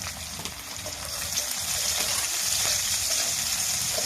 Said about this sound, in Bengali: পেঁয়াজটা একটু নাড়াচাড়া করবো।